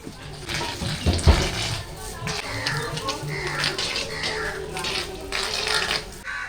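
Water from a hose pipe pours onto the dry bases of garden plants, a steady splashing gush at close range. A voice speaks over it.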